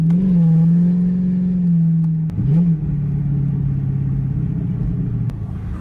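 A Dodge Charger Pursuit engine holds a loud, steady drone near the listener that dips and swells briefly as it revs, then settles back to a lower sustained hum until the end.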